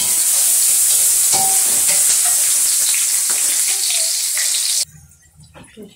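Onions crackle and sizzle loudly in hot oil in a pan, a dense steady hiss with scattered stirring clinks, then cut off abruptly to near quiet with faint clatter.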